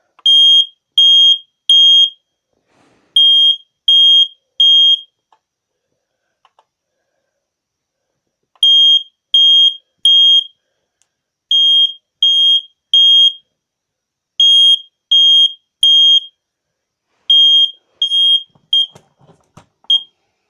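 A Kidde i4-618AC smoke detector alarm sounding its piercing high beeps in repeated groups of three, with short pauses between groups, loud and close in an otherwise quiet room.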